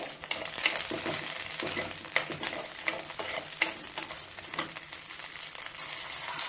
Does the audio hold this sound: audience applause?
no